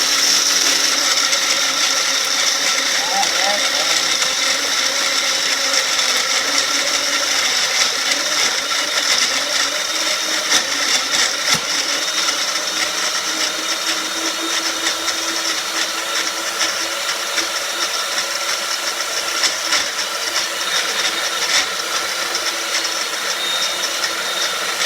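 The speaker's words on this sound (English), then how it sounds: "empty the envelope of powdered food into blender" Blender running continuously to mix an Optavia powdered food shake, a steady, loud, close whirring motor with no pauses.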